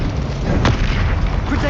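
A Confringo blasting spell bursts in Hogwarts Legacy, one short loud explosive crack over a dense, steady bed of game noise.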